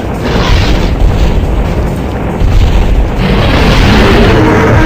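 Flame launcher blasts striking a dinosaur in the video game Dino Crisis 2, a loud, continuous roaring burst of fire and booming impacts filling the whole stretch, swelling slightly near the end.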